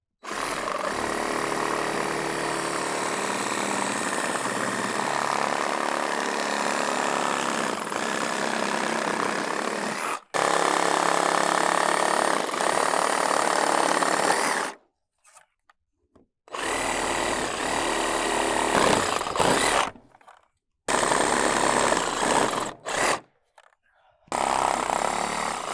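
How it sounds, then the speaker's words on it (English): A power tool cuts through the top stringers of the shipping crate around a 50 PTO manure spreader. Loud whining bursts run steadily and then break into shorter stop-start cuts with brief silences, and nobody speaks. "the easiest way we found is to cut all of the top stringers from front to back"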